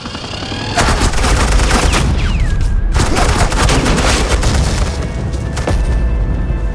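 Suppressing fire in Batman: The Enemy Within crackles in loud, close bursts of rapid gunshots and booming impacts, with a short gap near the middle before the volley resumes and carries on to the end.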